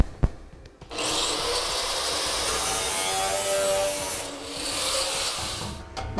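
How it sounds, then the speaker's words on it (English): An angle grinder cuts through a metal heat shield on a 2011 GMC Sierra pickup, a steady loud abrasive whine running for about five seconds with a brief dip near the end, alone without talk. "We're going to go ahead and cut it with a grinder."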